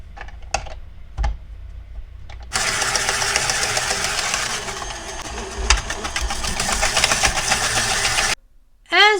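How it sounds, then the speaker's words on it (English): A KitchenAid slicer attachment runs through potatoes with a steady, loud broadband whir for about six seconds, starting after a few brief clicks and thumps and stopping abruptly. "the KitchenAid does do a little bit of almost shredding rather than slicing"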